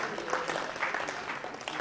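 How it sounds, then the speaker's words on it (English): A church congregation at a diocese gathering in London gives a round of applause, with dense, even clapping at moderate volume throughout. A voice is faintly present beneath the clapping. "round of applause for the diocese."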